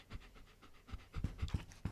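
A puppy panting close to a microphone, with quick, uneven huffing breaths that grow denser and louder toward the end, heard alone without talking.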